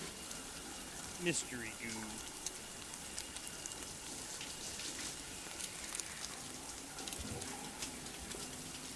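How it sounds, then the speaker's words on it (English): A hot shower runs steadily in the Death Stranding video game, its water hissing and pattering in a continuous spray throughout, with brief voice sounds over it. "Really is nothing like a good hot shower"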